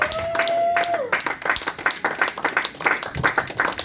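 A church congregation breaks into applause, a dense patter of clapping from many hands that follows a sustained sung or spoken note and carries on steadily, with voices mixed in.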